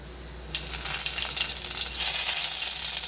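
Mustard seeds crackle in hot oil over a low gas flame for moong dal with curry leaves, a dense, steady sizzle with fine crackles that jumps up after a brief quieter start and then holds, close and fairly loud.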